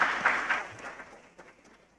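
Brief applause from a conference audience, a burst of clapping that starts fairly strong and quickly thins out, fading to a few scattered claps.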